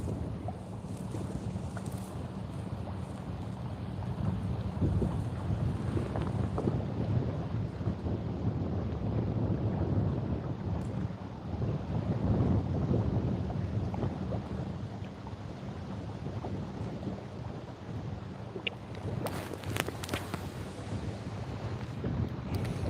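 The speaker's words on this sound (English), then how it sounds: "We don't got nothing but wind and waves." Wind and waves on Lake Erie during a fishing outing roar as steady, loud buffeting over a low rumble of choppy water against the boat, with no talk.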